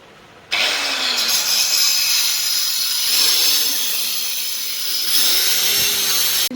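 A power cutting machine grinds through stone tile pieces for a step, a loud continuous high whine with the motor pitch dipping and recovering as the blade bites, starting abruptly after a quiet moment.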